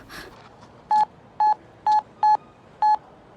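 A telephone number is dialed: five crisp, evenly spaced keypad tones, each about a tenth of a second long, clear over a faint room background.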